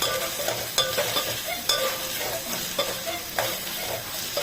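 Crushed garlic and green chillies stirred into hot oil in a frying pan for khichdi, with a steady sizzle and repeated scraping strokes of a spoon at a close, even rhythm.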